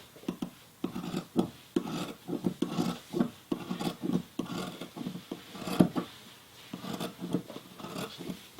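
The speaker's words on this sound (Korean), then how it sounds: "가위로 잘라주세요." Scissors cutting through fabric to trim a pants hem, a steady run of close rasping snips and rustles in uneven rhythm, with no talking.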